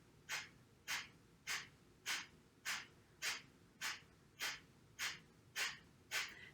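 Eleven sharp, forceful exhales through the nose in an even, rapid rhythm during a solar plexus breathing exercise, each a short breathy burst with quiet passive inhales between, close and fairly soft.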